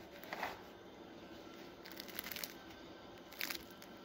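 Faint, crisp crackling crunches of homemade bread crust come in three short bursts, close to the microphone in a quiet room.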